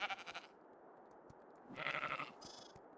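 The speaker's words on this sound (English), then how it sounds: "Oh my god, is that baby sheep?" Baby sheep bleating in the video game ARK: Survival Ascended, with several short, thin bleats from a few animals, one near the start and another a little later, over quiet background ambience.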